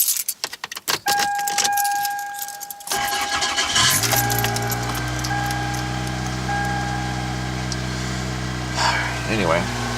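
A Toyota Corolla, cold, started with an aftermarket key: keys jangle and click close by, then the starter cranks and the engine catches into a loud, steady idle with a faint warning tone early on.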